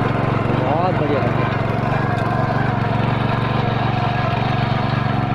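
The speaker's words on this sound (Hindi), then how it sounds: "तो उस ट्रैक्टर से हल लगाते हुए दिखाता हूँ आज आपको।" A small tractor ploughs a hillside field, its engine droning steadily and loudly throughout with a constant mechanical rumble.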